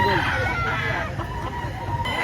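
A two-year-old Alisayang gold rooster crows close by at a Lipa, Batangas poultry market, one sustained call filling the whole stretch over a steady background of other birds.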